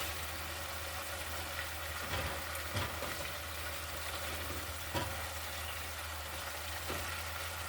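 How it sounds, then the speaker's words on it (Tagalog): Spareribs and string beans sizzle and fry steadily in a pan for adobong sitaw, with occasional utensil scrapes and knocks as the vegetables are stirred, no talking. "haluin para mag-even ang kanyang gulay"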